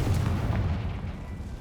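A Confringo spell blast in the Hogwarts Legacy video game: a loud, rumbling explosion with a dense low boom that rolls on and slowly fades.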